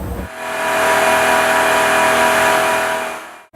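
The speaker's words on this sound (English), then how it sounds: "we are able to almost instantly rev the engine to any speed we want" A 5.7-liter Hemi V8 with the e-torque system is held at high revs on a dynamometer test stand, giving a loud, steady, sustained engine roar that cuts off abruptly at the end.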